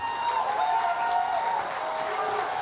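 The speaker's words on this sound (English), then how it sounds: "So, I thought I'd get more applause than that." Audience applause at a justice awards ceremony, a moderate, even spread of clapping that holds steady across the moment, fairly distant in the hall with no clear voices over it.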